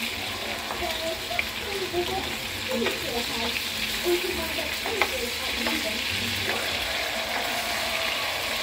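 Marinated beef tapa fries in a pan with a steady, close sizzle, broken by light pops and spatters and occasional stirring. Someone talks quietly over the cooking.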